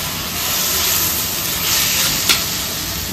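Vegetables frying in a pan with tomato, chili and soy sauce for chowmein give off a steady close sizzling hiss, with a brief stir or scrape near the end.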